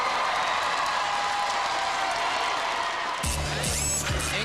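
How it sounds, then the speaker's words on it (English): Audience at a Robot Wars Extreme Warriors US Championship arena applauding team Panzer Mark II, a dense roar of clapping and cheering that continues without a break until a louder mechanical hum cuts in near the end. "I think you guys deserve a big round of applause from our audience here"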